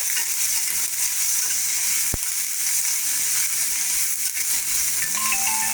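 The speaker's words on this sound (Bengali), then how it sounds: "এবার দিয়ে দিলাম টাইমে পেঁয়াজটা একটু ভালো করে ভেজে নেব।" One large chopped onion frying in a pan: a steady, even sizzle throughout with occasional stirring scrapes and a single sharp click, close and without talk.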